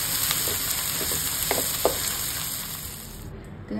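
Green chillies fry in hot oil in a pan while cooking a Paarai fish coconut curry, a steady close sizzle with a few stirring scrapes and no talk.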